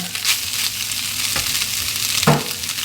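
Sausage frying in a pan, a steady, close crackling sizzle with occasional stirring scrapes and small pops, no voices.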